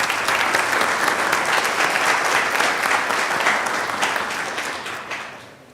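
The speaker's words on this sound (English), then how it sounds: "Will you all please join me in a round of applause for the occasion?" An audience breaks into steady, sustained applause that fills the room loudly from start to finish, then fades toward the end with no talk over it.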